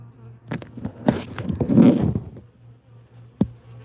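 Bees buzzing around beehives in an outdoor apiary, heard as close, intermittent droning hums as insects fly past, with sharp knocks and brief handling noises between them.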